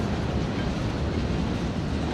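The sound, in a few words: train passing on railway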